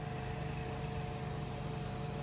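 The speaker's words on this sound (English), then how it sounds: "started the auger up." A steady engine runs continuously on a farm conveyor project, its auger engaged and churning under a constant mechanical drone, close and fairly loud with no break throughout.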